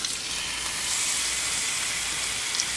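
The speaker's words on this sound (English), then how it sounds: "Then I'm going to sear each side for a few minutes." A roast sears in hot grease for a crockpot Sunday dinner, making a loud, continuous frying sizzle and hiss throughout with no voices.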